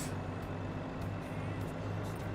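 A truck in the Farming Simulator 25 video game drives steadily along with a continuous engine drone and rumble, heard alone without talk over it.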